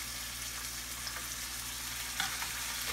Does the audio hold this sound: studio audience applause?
no